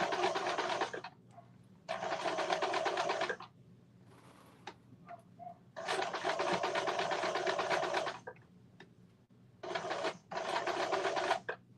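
Sewing machine stitching a pocket onto a pair of pants, running in several bursts of steady rapid stitching separated by short pauses, close and clear.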